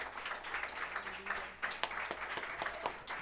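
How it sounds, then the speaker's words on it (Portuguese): Worshippers in a church give applause to the Lord, a steady patter of many hands clapping at moderate distance, with a few sharper individual claps standing out. "Dê um aplauso ao Senhor."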